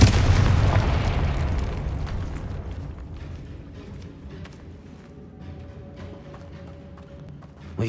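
A Confringo spell blasts in Hogwarts Legacy inside a goblin mine, a loud booming explosion that hits at once and rumbles away over several seconds, with faint game ambience afterward.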